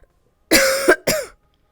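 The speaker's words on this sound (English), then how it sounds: "So every time I cough, I have to mute." A single person who is sick coughs twice, close and loud, a short hoarse burst followed by a second brief cough, with silence around them.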